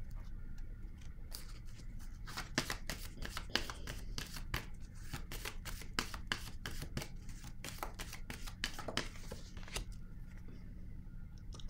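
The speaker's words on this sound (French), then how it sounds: "Là, je vais déposer une autre carte." Tarot cards are handled and laid on a table, a run of quick close slaps and shuffles with short pauses between them, faint and with no voice over them.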